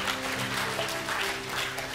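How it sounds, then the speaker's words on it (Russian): Audience applause inside a church during a sermon, a steady wash of clapping that holds at an even, moderate level for the whole stretch with no voices over it. "Как-то жидко вы хлопаете"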